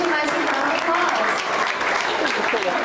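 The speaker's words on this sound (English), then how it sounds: "give Tisha a nice round of applause" A live audience on a studio backlot tour applauds a participant named Tisha after her scene; dense, steady clapping throughout with voices mixed in.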